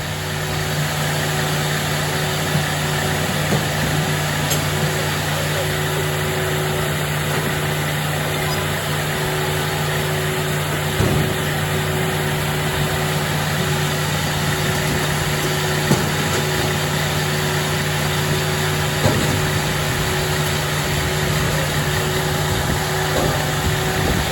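The 405 firewood processor's engine running at the Ohio wood burners' open house, a loud, steady mechanical drone and hum held throughout with faint knocks and clatter over it.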